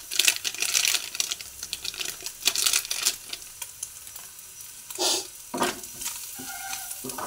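Egg roll mixture frying in a pan makes a loud, crackling sizzle with bursts of spattering and a few sharp clinks of a utensil against the pan, the frying rising and falling in waves.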